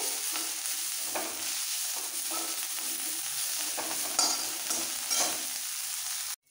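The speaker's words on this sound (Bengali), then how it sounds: "এইভাবে একটু নাড়াচাড়া দিয়ে কুরকুরে করে ভেজে নিতে হবে।" Neem leaves crackle and sizzle in oil as a spatula turns them, giving repeated soft scraping strokes over a constant frying hiss, close up and without voices, ending abruptly.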